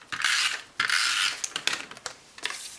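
An adhesive tape runner joins pieces of cardstock and designer paper while an envelope-style gift card holder is assembled. Several close, scratchy rasping strokes come in separate bursts, with short pauses between them.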